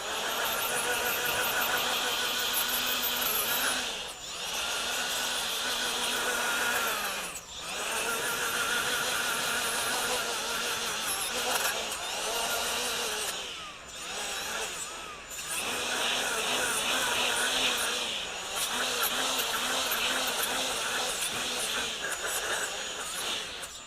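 A yellow 80-grit 3M Roloc bristle disc on a power tool grinds against aluminum with a high squealing whine, running in long bursts broken by brief pauses.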